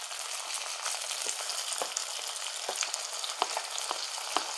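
Chopped onion, green chili, salt and tomato sizzle and crackle steadily in a hot pan, with occasional stirring scrapes breaking through the continuous frying hiss, close and fairly loud.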